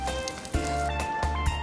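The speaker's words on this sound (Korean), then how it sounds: "지글지글 소리까지 맛있다." Yellow croaker jeon (pan-fried Mokpo wild yellow croaker) sizzling in a frying pan, a soft steady crackle with a few louder pops, heard alone.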